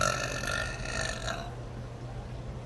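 A girl lets out a long, loud burp lasting over a second, then it fades to quiet room noise.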